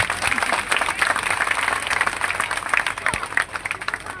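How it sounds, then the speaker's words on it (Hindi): Audience at a community gathering applauding, a sustained dense patter of many hands with crowd murmur and scattered voices mixed in. "ये तो जोर से तालियां बजाए एक बार"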